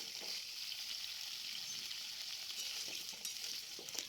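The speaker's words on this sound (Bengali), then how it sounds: "প্রথমে আমি গোটা জিরে আর শুকনো লঙ্কা ফোড়নে দিয়ে দিয়েছি তারপরে আলুগুলোকে আমি এর মধ্যে দিয়ে দিলাম" Potatoes frying in hot oil with whole cumin seeds and dried chillies, a continuous close sizzle with scattered stirring scrapes and small pops.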